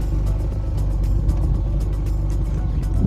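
Honda Ballade with pop-up headlights idling after a cold start, a steady low engine rumble with faint rhythmic ticking running throughout.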